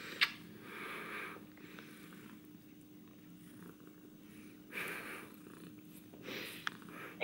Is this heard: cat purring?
yes